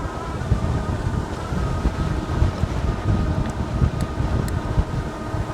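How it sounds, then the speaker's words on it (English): Wind buffets the microphone in low, uneven rumbling gusts while riding an Engwe Engine Pro 2.0 e-bike, loud and continuous throughout, with no talking. "I hope the windscreens are buffering out all of the wind here."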